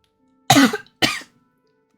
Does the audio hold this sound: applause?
no